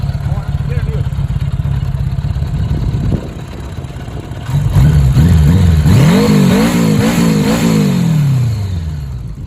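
A $500 Honda Goldwing motorcycle engine idles with a steady low throb, then revs hard toward redline in rising and falling sweeps, loud and close, with a voice speaking over it.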